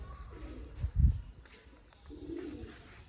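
Pigeons flutter and coo around a Punjabi home, a few soft low coos and wing sounds rising briefly in the middle, fairly near, with background noise and faint human voices.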